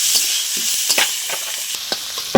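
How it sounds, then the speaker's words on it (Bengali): Onions with dried red chilli, cardamom and cinnamon fry hard in hot oil, a loud steady sizzle punctuated by quick spatula scrapes and taps. "শুকনো লঙ্কা দিয়ে দিলাম, এলাচ, দারচিনি দিয়ে দিলাম, পেঁয়াজ দিয়ে দিলাম। এটা খুব ভেজে জ্বলছে,"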